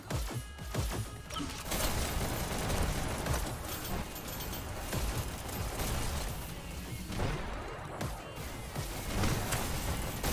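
Rockets firing in the VR game Hyper Dash amid a chaotic match, with repeated bursts, crashes and booms layered over a dense, loud wash of action sound.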